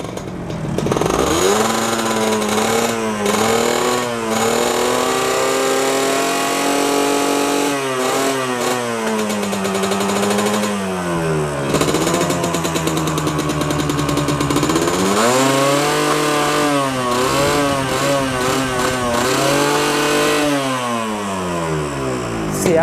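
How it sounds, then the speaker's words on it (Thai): Close, loud Yamaha VR motorcycle engine with stock exhaust rumbles at idle and repeatedly revs up and back down, the pitch sweeping up and falling throughout. "สตาร์ทให้ฟังเสียงหน่อย VR คันนี้"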